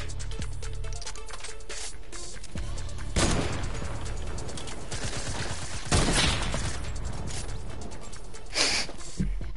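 Video game gunfire crackles in repeated bursts and volleys over a steady loud background, with a few heavier blasts standing out.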